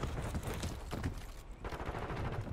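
Constant gunfire in a shooter game, with dense bursts of automatic fire crackling and rattling one over another and no break for more than two seconds, fairly faint and distant in a busy battle mix.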